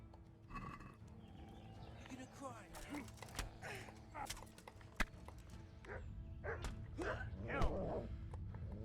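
A dog barks in the medieval video game Kingdom Come: Deliverance, several sharp barks scattered over clattering hooves and combat noise at moderate volume, with someone talking over it.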